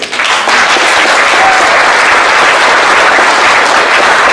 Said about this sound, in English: How about a warm round of applause if you can hear me clearly?